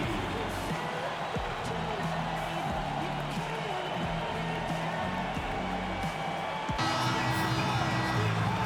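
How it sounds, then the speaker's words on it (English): Arena crowd noise in the basketball video game NBA 2K26 during an Orlando Magic versus Golden State Warriors game, a steady roar of cheering with ball bounces and sneaker thuds, swelling slightly near the end. "Fans, please give a big round of applause for your dance team."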